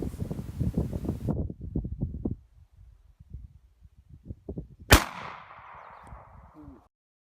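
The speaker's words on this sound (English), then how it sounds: "let the man take a shot with his shotgun" A single sharp gunshot from a .410 Snake Charmer shotgun cracks out loud and close in the middle, its blast tailing into a short echo, after rustling and wind-like handling noise.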